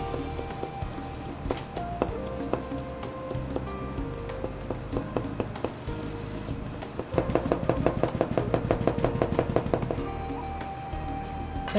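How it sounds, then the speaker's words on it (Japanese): A knife finely chopping shiso leaves on a board, with irregular taps at first, then a fast, steady run of crisp, close chops over a low background hum. "みじん切りにします。"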